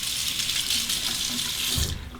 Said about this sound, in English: I'm going to warm it up under the hot water.